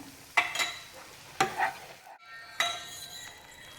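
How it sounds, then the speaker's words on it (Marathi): Besan being stirred with ghee in a pot for traditional Mysore pak, with a soft sizzle underneath and several distinct scraping strokes of the spoon against the pan, close and fairly quiet. "हातानेच मिक्स करत करत तूप आपण टाकून घेणार आहे"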